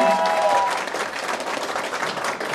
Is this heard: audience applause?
yes